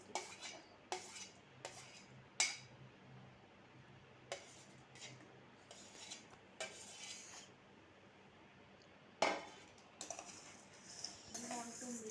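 Scattered clinks and scrapes of a spoon against a bowl as no-cook ingredients are mixed, soft and intermittent with gaps between, faint and close in a quiet room.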